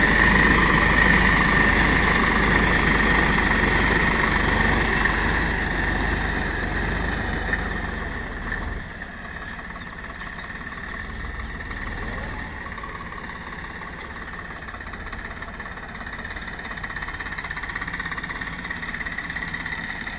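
A three-cylinder 45 hp Swaraj 742 XT tractor engine runs loud and close, then drops abruptly to a quieter, more distant rumble around the midpoint and carries on at that lower level, with no talking.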